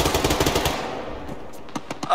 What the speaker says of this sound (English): Auto cannon BMP.